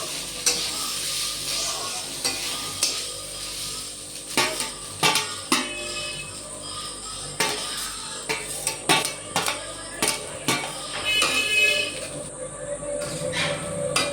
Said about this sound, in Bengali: একটু ভালো করে নাড়াচাড়া করে নিলাম